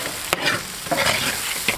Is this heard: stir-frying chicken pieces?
yes